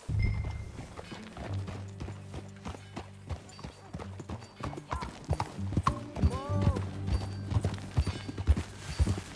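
Horse hooves clip-clop in a steady riding rhythm in the video game Red Dead Redemption 2, close and clear over a low, sustained in-game background.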